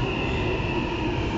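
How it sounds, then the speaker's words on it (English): A train pulls into Canada Water station in London, a steady, even rumble with a faint high whine that holds for about a second and a half with no voices. "There are trains coming in a minute"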